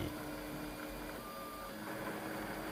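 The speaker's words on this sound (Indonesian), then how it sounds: "fungsi dari printer 3D." A 3D printer runs with a steady mechanical whir and faint stepper-motor tones, including a brief high whine, all at an even level with no talking.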